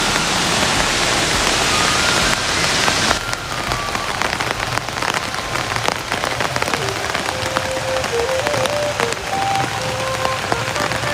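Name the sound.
waterfall rushing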